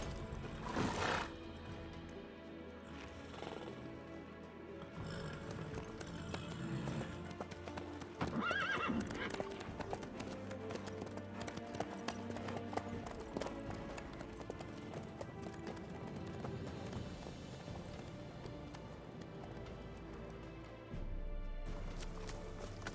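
Horse hooves clip-clop steadily throughout a long ride in The Witcher 3, with the occasional whinny breaking through a continuous layer of game ambience.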